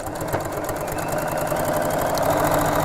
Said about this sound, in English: I'm just sewing on top of the same stitch line that I've just made